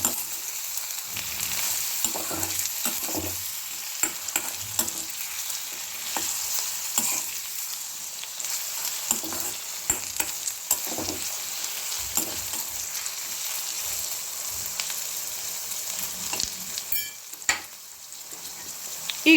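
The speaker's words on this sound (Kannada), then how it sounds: "ಇದು ಎಣ್ಣೆಯಲ್ಲೇ ಸ್ವಲ್ಪ ನಾವು ಇದನ್ನು ಫ್ರೈ ಮಾಡ್ಕೊಳ್ತಾ ಹೋಗಬೇಕು." Chopped bitter gourd frying in hot oil in a pan, a steady close sizzle with intermittent scraping and stirring clatter throughout, no voices.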